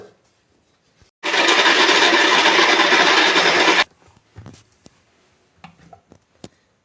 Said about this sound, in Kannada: ಇದನ್ನು ಮಿಕ್ಸಿ ಮಾಡ್ಕೊಂಡು ಬರ್ತೀನಿ.